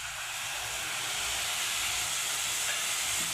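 Chopped tomato sautéing in chicken gravy in a pan, a steady, even hiss of sizzling that holds loud and unbroken throughout, with no talk.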